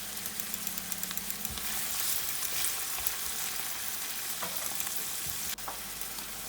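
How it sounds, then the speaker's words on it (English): Onions fry in oil in a pan with a steady, close sizzle and occasional stirring clicks and taps, no talking. "Add the onions and fry until tender."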